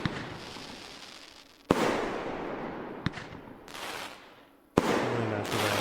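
Firework explosions in the video game Fireworks Mania, with loud sudden booms followed by long crackling, hissing tails that overlap and fade between blasts.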